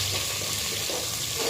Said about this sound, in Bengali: পোলাওর জন্য পেঁয়াজ ভেজে নিচ্ছি।